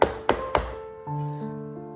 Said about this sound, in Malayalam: ഇത് നമുക്ക് ടാപ്പ് ചെയ്യണം.